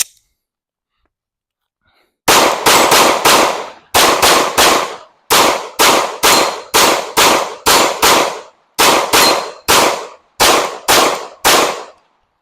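Glock pistols, a Glock 19 and Glock 26, fired at targets in a series of close, loud, sharp shots that come in quick bursts of two to four with short pauses between groups, after a near-silent start.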